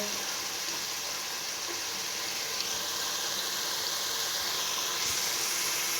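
Masala for arvi curry with dried coriander sizzles in a pan, giving a steady, even hiss of frying that runs without pause at moderate volume.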